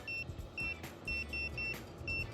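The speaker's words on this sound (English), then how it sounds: "It beeps at you. It tells you where grade is." A laser level receiver mounted on a grade rod at a basement excavation gives repeated short high beeps in quick bursts, four clusters over a couple of seconds, with low site rumble underneath.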